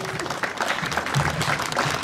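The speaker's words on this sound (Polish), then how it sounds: "Rafał Królikowski, prosimy o gromkie brawa" Audience applause at a comedy film festival event, a dense continuous round of clapping from a crowd filling the whole moment, fairly loud and even throughout.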